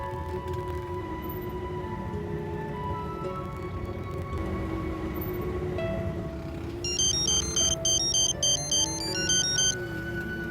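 A phone ringtone chirps in repeated electronic bursts, starting partway through over a background of low hum and steady tones, fairly loud and close.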